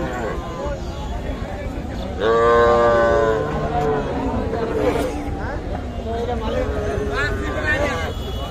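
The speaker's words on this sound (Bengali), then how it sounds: "এগুলো কিন্তু সব বকনা বাছুর।" Heifer calves at a rural cattle market in Kaharol low out in one loud, drawn-out moo, with a crowd of people chattering and bargaining nearby throughout.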